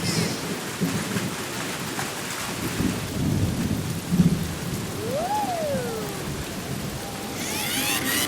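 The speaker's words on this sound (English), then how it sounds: "It's starting to rain." Cartoon thunderstorm with steady heavy rain hissing throughout, a rumble of thunder near the middle and a rising-falling whistling tone, no talking.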